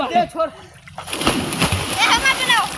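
A voice speaks briefly, then a loud splash of water as someone hits the surface, followed by sloshing while voices continue.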